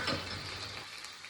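Mustard seeds and cumin sizzling in hot oil in a pan for poha, a brief faint crackle with a soft hiss that thins out after the first moment.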